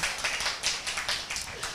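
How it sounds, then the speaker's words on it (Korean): Audience members at a Jongno center seminar give a short burst of light, scattered clapping, a handful of quick claps at moderate distance, fading soon after it starts. "아니 맞다고 박수 쳐주시는 거예요?"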